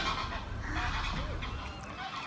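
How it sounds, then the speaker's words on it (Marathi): Seagulls call near a seaside castle in North Wales surrounded by water, a few harsh honking cries sounding at moderate distance over a noisy, windy outdoor background. "सिगल"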